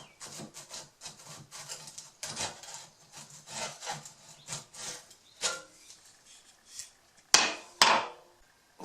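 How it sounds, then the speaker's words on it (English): A lightweight hammer drives a punch against the pins of a 1910 Disston D-8 hand saw, making a run of rhythmic, rasping strikes followed by two sharp, bright taps near the end. "I needed a lightweight hammer. I'll just punch those out."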